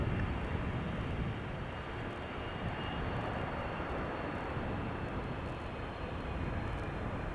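Airliner jet engines spool up at Schiphol's Polderbaan runway, a steady, broad roar that holds loud and continuous throughout, with no voices over it.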